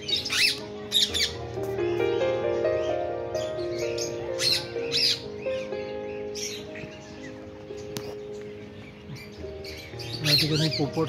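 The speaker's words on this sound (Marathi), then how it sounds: "या ठिकाणी पोपट." Parrots squawk repeatedly in an aviary at the Maharaj Bagh zoo in Nagpur, harsh bursts scattered over a droning background, with people talking nearby.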